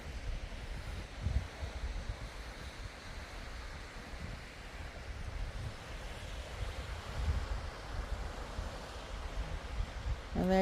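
Cold wind gusting at the seaside, a faint, steady rush of broadband air noise buffeting the microphone with occasional low thumps, distant surf blending in beneath.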